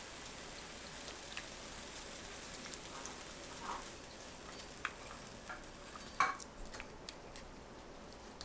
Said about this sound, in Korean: 팬에 식용유 2큰술 두부 넣고 중불로 앞뒤 노릇하게 구워주세요.